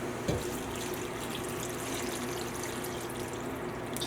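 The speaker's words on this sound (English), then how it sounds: "I'm going to fill it up with some water up until it just covers it up." Water pours steadily into a pot of chicken and vegetables until the ingredients are just covered, a continuous trickling stream at moderate level with faint background hum.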